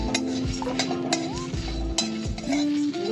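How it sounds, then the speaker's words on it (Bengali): Dry red chilies, a bay leaf and whole cumin roasting in a pan, with repeated close scrapes and clinks of a spatula stirring against metal over a faint background hum and a soft sizzle. "চারটে শুকনো লঙ্কা একটা তেজপাতা ভেজে গুঁড়ো করে নেব দেখুন এটা আমি ভেজে নিচ্ছি"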